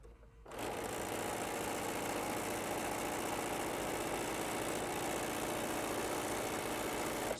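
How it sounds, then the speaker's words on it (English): A sewing machine stitching quilt fabric starts up and runs at a steady even whir with a fast mechanical rhythm, close and constant, with no talking. "I'm going to sew all the way to the far end"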